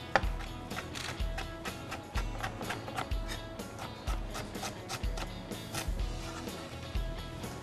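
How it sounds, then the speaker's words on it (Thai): A knife chops coriander root and garlic on a board for a Thai chicken and wood ear mushroom soup, striking in quick, steady, evenly spaced knocks, close and fairly quiet. "รากผักชีอยู่กับมือผมครับ เดี๋ยวหั่นหน่อย"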